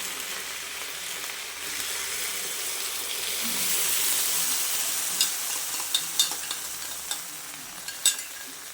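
Glass noodles softened in water and a seasoned sauce are stirred in a hot pan, giving a steady soft sizzle with scraping stirs and a few sharp clicks of a utensil toward the end, no voices.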